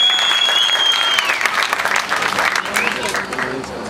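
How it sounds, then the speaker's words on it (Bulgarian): Steady, loud applause from a crowd at a karting track driver briefing fills the whole moment, with a brief high whistle-like tone near the start. "Аплодисменти и за дракона."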